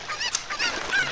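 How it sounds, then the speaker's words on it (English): Chicken clucking from The Legend of Zelda: Ocarina of Time, heard as a run of short, bright squawking calls over about a second, fairly close and steady, with no talking. "why do you have a chicken?"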